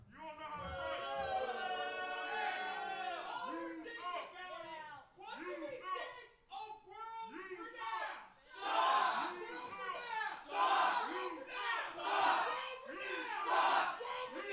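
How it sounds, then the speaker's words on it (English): A Hallsboro crowd at a Total Rassling Live wrestling show chants together, loud rhythmic bursts of massed voices that build and repeat in waves, rising toward a fuller roar in the later half. "Hallsboro crowd starting up their signature chant, showing how much they hate World Renowned"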